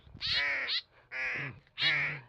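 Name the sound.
crow cawing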